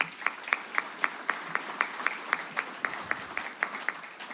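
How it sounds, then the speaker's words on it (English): A college awards ceremony audience claps for the behind-the-scenes team, with a soft bed of crowd clapping under distinct, evenly spaced sharp claps about four per second standing out close by. "so let's give that group a round of applause."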